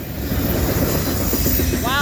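A fast CSX autorack freight train rushing past on the Pittsburgh Subdivision, a loud steady roar of wheels and rumble close by, with a brief high wheel squeal near the end.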